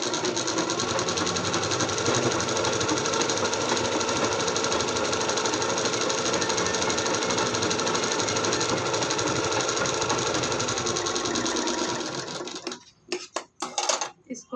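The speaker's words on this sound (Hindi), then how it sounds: "इसके ऊपर ऊपर सिलाई चला देंगे।" Sewing machine stitching a blouse, a steady fast mechanical whir with rapid needle chatter running loud and close for about twelve seconds, then stopping into a few scattered clicks and handling knocks.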